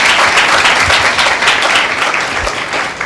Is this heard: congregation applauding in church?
yes